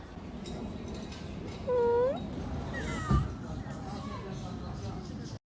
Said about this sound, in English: oh my gosh, a little cat